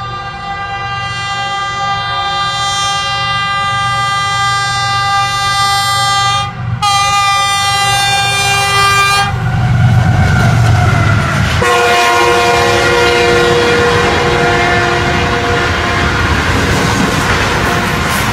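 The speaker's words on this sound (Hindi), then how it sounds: "जब जिन्ना एक्सप्रेस तेज़गाम को ओवरटेक करने के लिए रफ्तार से आ रही थी" A Jinnah Express passenger train races through a railway station at speed, its horn blaring in long sustained blasts with a brief break, while the rumble of the passing coaches swells loud and close throughout.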